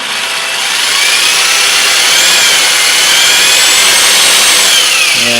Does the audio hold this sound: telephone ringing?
no